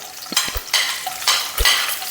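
Cashews and raisins frying in hot ghee while a spoon stirs them, with bursts of close sizzling broken by clinks of the spoon against the pan.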